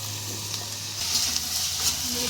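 Greens sizzle steadily as they fry in a pan, a continuous close hiss with soft crackling and a slight swell in intensity partway through.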